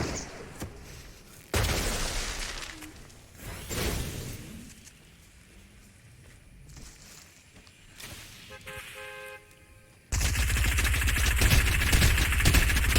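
Rapid video game gunfire in Fortnite's Getaway mode, bursts of shots and sprays mixed with game effects, loud and close with sharp onsets, growing denser and louder in the final seconds.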